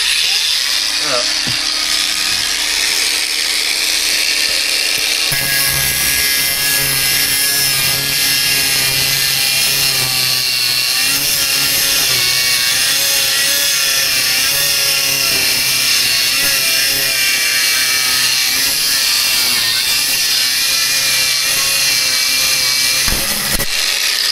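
A loud, continuous grinding whine of an angle grinder cutting steel rebar inside a bunker, running steadily for the whole stretch, with a brief lull near the start.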